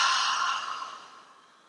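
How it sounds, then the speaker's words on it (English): A single long exhale through an open mouth during pranayama breathing practice, a close, breathy rush of air that fades gradually over a second and a half. "Open mouth, exhale."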